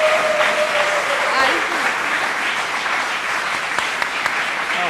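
Studio audience applause fills the whole stretch, a steady dense wash of clapping at constant loudness during a Serbian comedy show, with brief voices cutting through now and then.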